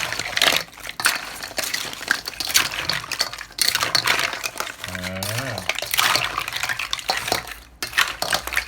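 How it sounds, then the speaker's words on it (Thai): Food ingredients being tossed and mixed together in a bowl in a home kitchen, busy clattering of utensils against the dish with wet squelching, intermittent and close, with voices speaking briefly over the mixing. "เราคลุกเคล้าค่ะ คลุกเคล้าให้ส่วนผสมนั้นเข้ากันนะครับ"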